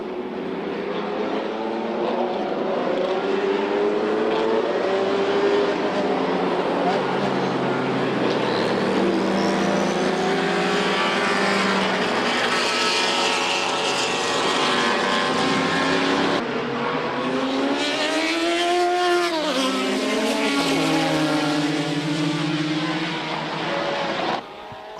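Group C and GTP prototype race cars lap Brands Hatch behind a safety car, a continuous loud engine roar with several cars' tones overlapping and pitch rising and falling as they pass close by.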